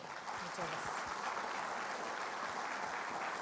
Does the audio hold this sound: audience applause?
yes